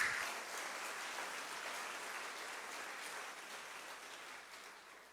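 Congregation clapping during a Sunday morning church service, a soft, diffuse spread of hands heard from a distance that slowly fades toward the end.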